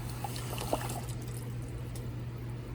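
Water and sugar pour into a pot for peach syrup, making a soft, faint trickle over a low steady hum, with a small splash near the start.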